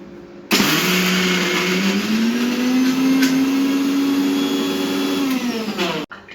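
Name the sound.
mixer grinding soaked mixed lentils for vada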